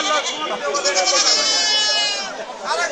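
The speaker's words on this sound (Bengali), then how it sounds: "এখানে অসংখ্য ছাগল পাওয়া যায় রং বেরঙের" Native goats at a busy village goat market, bleating loudly and close in repeated wavering cries, with voices in the background.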